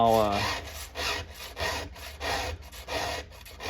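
A round file sharpens a chainsaw chain in quick, rhythmic rasping strokes, roughly eight close scraping passes in under four seconds, with no talk.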